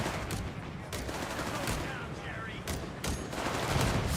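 Rapid automatic flak gun fire tearing into infantry during a Company of Heroes 3 2v2 match, dense overlapping bursts of gunfire and battle noise throughout, with a caster talking over it.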